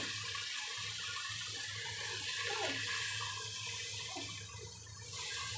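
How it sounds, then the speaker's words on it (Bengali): Water poured into a pan of prawns and potatoes, a steady running splash lasting several seconds with no talk, close and moderately loud. "এবারে দিয়ে দেব জল।"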